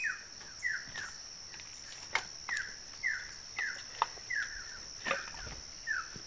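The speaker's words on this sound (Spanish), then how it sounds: "tenemos el sonido de la naturaleza, los bichitos, los pajaritos y todos los animalitos que andan por aquí" In the jungle, a bird repeats short rising chirps at a regular pace, about one per half second, over a faint, steady insect hiss. The sound is quiet and distant, with no talk.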